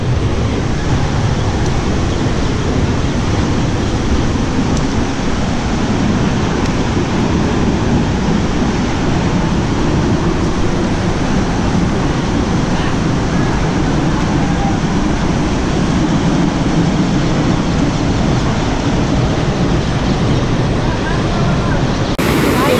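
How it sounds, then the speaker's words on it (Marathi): Sautada waterfall pounding down hard inside a rocky gorge, a loud continuous roar of crashing water with rumbling low end, heard close and unbroken throughout. "आतमध्ये पाणी जोरदार आपटतंय"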